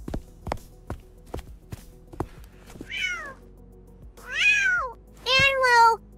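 Cartoon cat rendered in 3D animation: a run of light footsteps or taps gives way to three distinct rising-and-falling meows, each louder than the last, with no talk over them.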